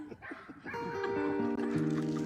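A dog whimpers and yips in a run of short, high, whining cries that stretch into longer tonal whines, close to the microphone and moderately loud, with no talking over it.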